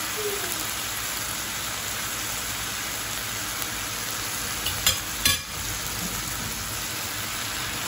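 Beef stir-fries in a pan with boiled stinging nettle, a steady, fairly quiet sizzle with a couple of brief clatters of stirring partway through.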